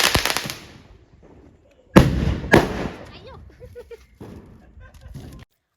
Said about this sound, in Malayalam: അപ്പോൾ നമ്മുടെ ഫൈനലായിട്ടുള്ള പടക്കം പൊട്ടിക്കലെല്ലാം കണ്ടു.